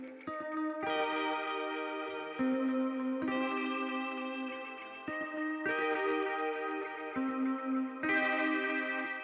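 Guitar chords ring out with a washed, fully wet delay and reverb, each strum blooming into a spacious tail, moderately quiet and with no voices.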